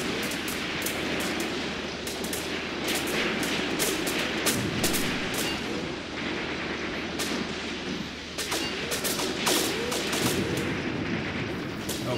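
Soldiers in Graviteam Tactics keep up a dense, continuous exchange of gunfire, sharp rifle and machine-gun cracks crowding over a rumbling battlefield bed with heavy booms, loud and unbroken throughout.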